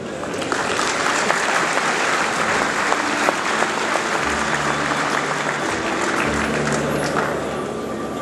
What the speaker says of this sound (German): für die ich Sie um einen ganz besonderen Applaus bitten möchte